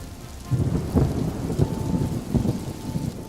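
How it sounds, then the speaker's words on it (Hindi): Heavy cartoon rain pours down steadily with thunder rumbling and cracking, a loud continuous downpour that builds, broken by several deep low booms, with no voices. "धीरे धीरे करके बारिश बहुत तेज हो जाती है"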